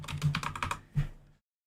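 Someone types code on a computer keyboard: a quick close burst of several keystrokes, a brief pause, then one harder keypress and silence.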